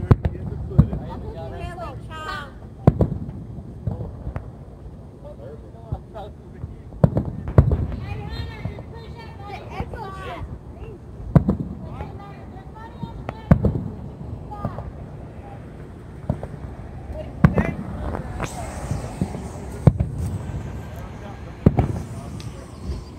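Fireworks go off outdoors at a motocross track day, sharp bangs and pops recurring irregularly throughout, with people talking and shouting in between.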